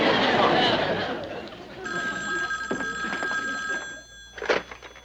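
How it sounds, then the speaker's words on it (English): A telephone bell rings in repeated steady bursts on an old television sitcom set, with background chatter and movement around it. "Tim, answer the phone"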